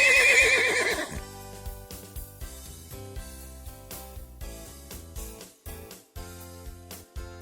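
A horse gives a short, quavering whinny right at the start, then a run of irregular knocks and thumps continues at a moderate level for several seconds.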